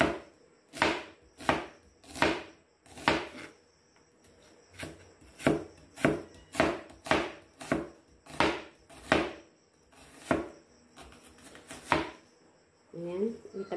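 An onion is sliced into strips with a knife on a board, a long, steady run of crisp, evenly spaced chops close to the mic, with a brief faint voice near the end.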